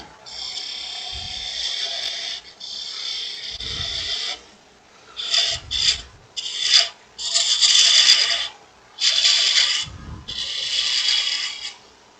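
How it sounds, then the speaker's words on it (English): A wood lathe tool rasps against the spinning bottom of a long-stem wooden goblet cup, making repeated steady scraping passes of a few seconds each, with brief pauses between them. "And I need to shape that bottom of that cup a little better here."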